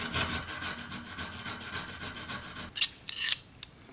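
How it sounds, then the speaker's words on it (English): Rasping grind on a Brown Mallee burl wood handle being shaped to fit a puukko knife blade, steady repeated strokes for several seconds, then a few sharper, louder scraping bursts near the end. "I'm going to have to grind into this at least that much and try and level this out."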